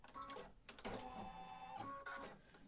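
An embroidery machine stitches a placement line for an in-the-hoop Halloween bookmark, giving a steady, close mechanical whir with rapid needle clatter running continuously and alone.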